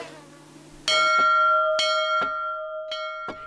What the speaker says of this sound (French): Et quand la cloche sonne